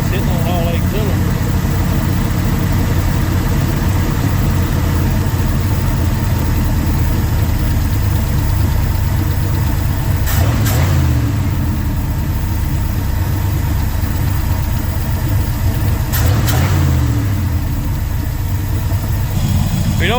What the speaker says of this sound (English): I'm gonna idle it down a little bit now that it's hitting on all 8 cylinders.